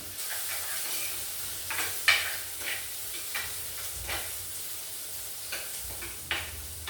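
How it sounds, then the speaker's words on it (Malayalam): Ginger, green chili, curry leaves, shallots and garlic sautéing in a pan on a stove, a quiet steady sizzle broken by scraping stirs of a spoon every second or so. "ഇഞ്ചി, പച്ചമുളക്, കറിവേപ്പില, ചെറിയുള്ളി, വെള്ളുള്ളി എല്ലാമാണ് അടുപ്പത്ത് കിടന്ന് വഴന്നു വരുന്നത്."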